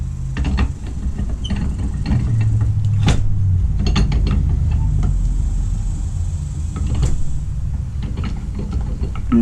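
Metallic creaks and ratcheting clicks come from a vise being worked on an ignition coil part for a 1997-2001 Acura Integra Type-R MSD coil install, steady close mechanical handling with irregular sharp ticks.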